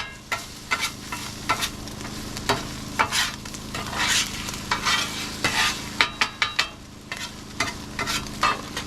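Eggs and chopped vegetables stirred in a frying pan, a utensil scraping and clacking in irregular strokes over a steady low sizzle, close and clear with no talking.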